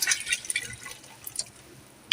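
Water pours into a pot for chana pulao, a close, uneven splashing and trickling that tapers off before a brief final clunk.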